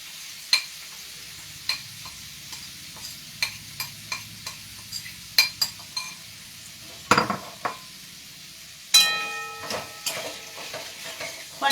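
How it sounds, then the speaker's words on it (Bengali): Marinated paneer pieces, 200 grams, dropped into hot oil for chilli paneer, giving a quiet steady sizzle broken by scattered sharp clicks and utensil knocks, with a louder clatter near the end. "তেলটা আমার গরম হয়ে গেছে। এখানে আমি 200 গ্রাম পনিরকে আমি ম্যারিনেট করেছিলাম, তো পনিরটা আমি দিয়ে দিচ্ছি।"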